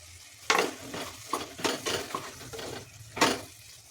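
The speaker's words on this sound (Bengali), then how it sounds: "টমেটো সস, ভালো করে নেড়ে নেবো।" A spoon stirs chicken stew with tomato and chili sauce in a pan, making several scraping strokes over a soft sizzle, close and without talk.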